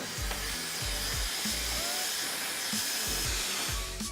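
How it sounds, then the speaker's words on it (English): A hair dryer blows steadily and close up on hair, its whir interrupted by repeated low thumps and brushing sounds. "we're going to prep it with a blow dryer."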